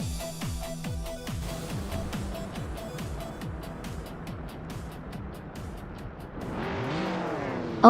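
Race cars at Anadara Circuit International, with Scott Dixon on pole, roar off the start as a loud pack in a video racing game, engines revving and whining through rising gear shifts, with a sharp tire squeal and a burst of acceleration near the end.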